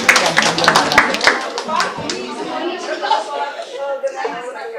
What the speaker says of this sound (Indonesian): Kita tepuk tangan untuk grup pertama ini dari Kampung Gerhana.